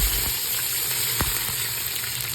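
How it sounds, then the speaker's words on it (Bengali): Sliced onion hitting already hot oil for frying: a brief, close, hissing sizzle with a few small pops, steady and unaccompanied. "আমি এখন পেঁয়াজটা আগে ফ্রাই করলাই।"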